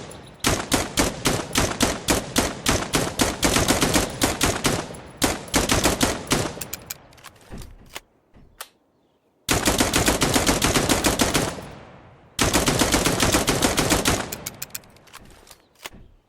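Rapid automatic gunfire in the video game Dagger Directive, long loud bursts of sharp shots with a brief pause, then two more sustained bursts, close and dominant with no talking.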